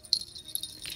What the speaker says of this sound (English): But I like the jingle.